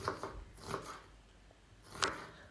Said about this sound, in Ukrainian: зараз нарізаю її напівколечками